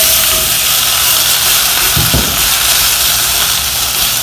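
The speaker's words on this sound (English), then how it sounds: "take your cherry tomatoes, make sure all the green parts are off, and rinse them, and you're just going to add them to the pan as is" Cherry tomatoes, whole and rinsed, sizzle steadily in a hot cast iron pan, a loud continuous hiss with a brief soft clunk midway as they settle.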